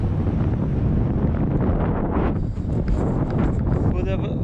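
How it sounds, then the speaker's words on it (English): Strong wind in Turkey, near spinning windmills, roars and buffets the microphone continuously, loud and close, with a voice faintly audible underneath. "it's very windy."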